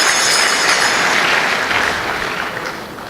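Loud, dense clapping from a town hall audience in Bayelsa State, a continuous wash of hands that holds steady and then eases slightly toward the end.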